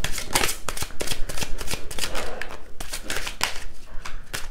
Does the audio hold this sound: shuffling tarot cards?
yes